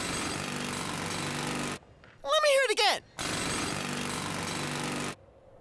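Jackhammers pound in a loud, continuous mechanical rattle that stops abruptly, then resumes after a short burst of voices and comic warbling sounds, with a person speaking briefly in between.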